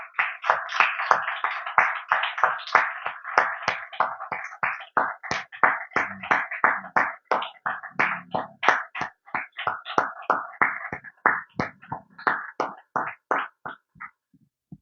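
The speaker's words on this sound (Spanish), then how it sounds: "Vamos a darle un aplauso a Jesucristo, nuestro Salvador" A church congregation claims in a steady, rhythmic beat, as if keeping time together. The sharp, distinct hand claps run for about fifteen seconds.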